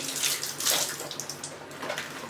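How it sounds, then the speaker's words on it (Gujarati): Tap water runs and splashes as hands are wet in a home kitchen while making sweets, a close, steady gush with small splashy bursts and no talk. "પાણીવાળો હાથ કરવાનો છે"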